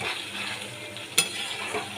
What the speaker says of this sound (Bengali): তারপরে আমি কিন্তু রান্না করছি, কষিয়ে নিচ্ছি।